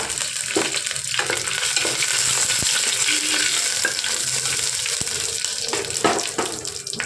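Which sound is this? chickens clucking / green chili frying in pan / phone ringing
green chili frying in pan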